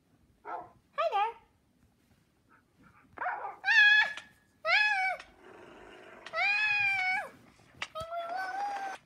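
A dog makes a series of short whining, yelping vocal calls in bursts, close and fairly loud, separated by brief pauses; the high, tonal calls could be a voice imitating a dog.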